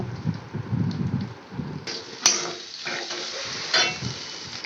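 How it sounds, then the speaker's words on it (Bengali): Spices being stirred in a pan while cooking prawn do-piyaza, with soft scraping and clinks of a spoon against metal over a low sizzle, close and moderately loud, with a sharper clink partway through. "এইগুলো আমি দিয়ে ভালো করে নেড়ে নেব"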